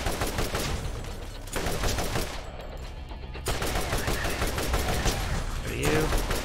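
A turret fires in the video game Borderlands as dense, continuous rapid gunfire bursts with short pauses, close and loud, while a voice talks over it.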